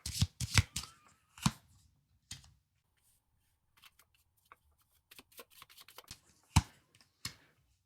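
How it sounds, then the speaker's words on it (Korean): Tarot cards being shuffled by hand, quick papery riffles and soft slaps in short bursts separated by quiet pauses, close and fairly faint, with no talking. "추가 카드 뽑아보면서 볼게요."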